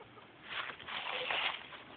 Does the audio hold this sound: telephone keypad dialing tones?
no